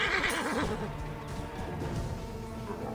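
A horse in Assassin's Creed Origins lets out a loud wavering whinny after being struck, with a faint clip-clop and game ambience trailing beneath it.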